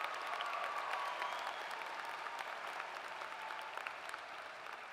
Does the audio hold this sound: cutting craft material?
no